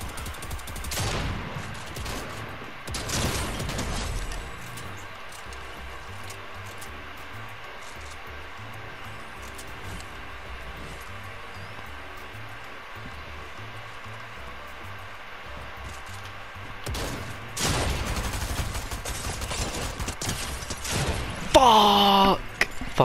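Gunfire in the Fortnite video game: dense bursts of automatic shots open the clip and return near the end, with a quieter stretch of game ambience between.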